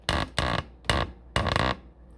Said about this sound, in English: Sorry for that noise from the tripod.